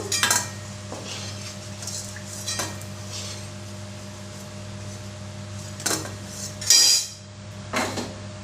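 Fried banana koftas lifted out of a pan of plenty of oil: a few clear metal clinks and scrapes of a spatula against the pan over a steady low hum and faint background sizzle.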